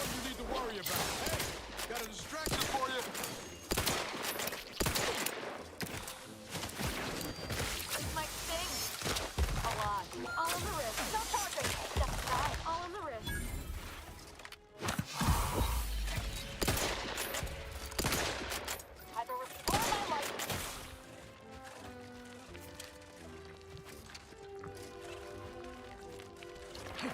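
Gunfire in the video game The Outer Worlds 2, dense bursts of rapid shots with impacts and crashes through a long firefight, pausing briefly before quieter music-like tones, with speech at times.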